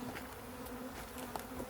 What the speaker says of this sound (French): Là, c'est trop d'abeilles.